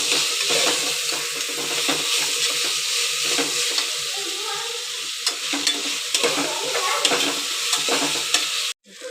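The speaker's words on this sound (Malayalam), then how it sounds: "നന്നായിട്ട് ഒരു 5-6 സെക്കൻഡ് നന്നായിട്ട് തുടർച്ചയായിട്ട് നമ്മളിങ്ങനെ ഇളക്കി കൊടുത്തുകൊണ്ടേയിരിക്കണം." Biryani masala sizzles steadily in a pressure cooker under continuous stirring, a dense frying hiss with soft scraping strokes before a sudden cutoff at the end.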